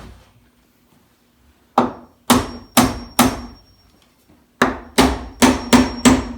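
A hammer clinches nails into wooden backer boards for a floor hatch in a log cabin. Nine sharp, close strikes land in two bursts, four then five, over a low steady hum.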